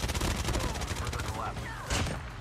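Bursts of automatic gunfire in Call of Duty Mobile, rapid loud shots in quick succession, with a voice faintly under the firing.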